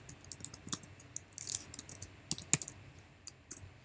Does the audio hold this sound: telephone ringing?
no